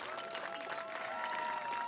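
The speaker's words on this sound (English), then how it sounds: "Another round of applause for all of Summertown Athletics as they continue to represent year in and year out." A crowd at a high school football game applauds the school's athletics program, a faint, continuous wash of clapping and cheering with a sustained tone running underneath.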